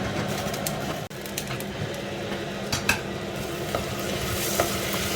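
Curry ingredients sizzling and browning in a pan: a dense, steady sizzle with stirring scrapes and a sharp utensil knock on the pan early on, close and continuous, no talk.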